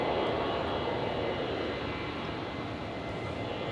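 A China Airlines airliner on very short final at Brisbane International Airport on a stormy night gives a steady, broadband engine roar, moderately loud and continuous throughout, with no talk.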